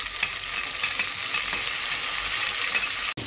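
Curry leaves and mint fry for a mutton kuruma, a dense close sizzle in a pan with faint stirring scrapes, ending in a brief sharp knock and a momentary drop; no talking.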